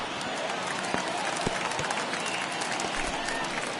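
In MLB The Show 21, a big stadium crowd at a ninth-inning baseball game roars and claps as a sustained, dense wash of applause with no clear pauses.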